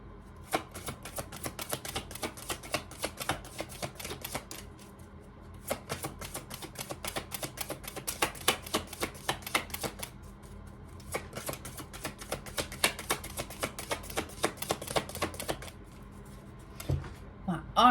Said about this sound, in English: So all this shuffling is actually, because your muscles are tense when you're shuffling.